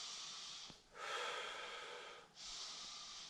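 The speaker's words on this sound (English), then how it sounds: "Inhale as I bring my body down." Slow, deep breaths during a Kundalini yoga stretch: a long airy inhale, then a fuller, louder exhale, with a soft sniff between them. The breathing is close to the microphone and no one speaks.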